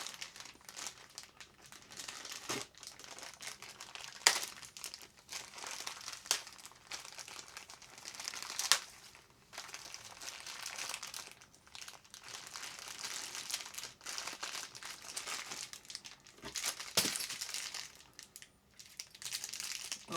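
Plastic parts bags from a Tamiya Hornet Evo kit being handled, a continuous crisp crinkling with sharper crackles and rustles throughout, close up and fairly quiet, with no talking.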